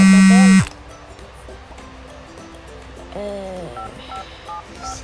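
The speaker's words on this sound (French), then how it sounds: "Ah bah, on m'appelle." A mobile phone rings with an incoming call, a loud electronic tone pattern that cuts off abruptly, followed by quieter melodic ringtone notes in a room with low background noise.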